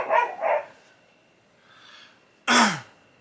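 Dogs outside bark: two quick barks, a soft muffled one, then a single loud sharp bark, close and clear against near silence.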